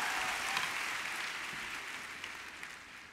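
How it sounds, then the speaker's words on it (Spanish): A church congregation claps together in a broad, even wash of applause that slowly fades, with no voices over it. "Dale un fuerte aplauso al Señor Jesús."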